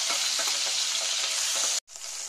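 Prawns fry in hot oil for a prawn and spinach dish, giving a loud, dense, continuous sizzle that cuts out briefly near the end before resuming.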